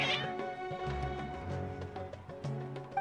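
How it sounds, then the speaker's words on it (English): Several cats in a Genshin Impact city scene meow over a steady game backdrop, the agitated calls rising and overlapping in close, repeated bursts. "Your cats seem pretty worked up."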